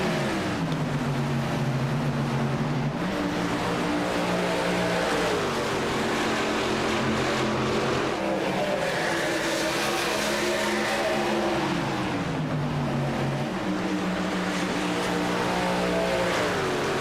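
Racing trucks in a VSpeed Contender Series race roar continuously, loud and close, their engines revving with pitch repeatedly climbing and falling as they accelerate and lift off, with no talk over them.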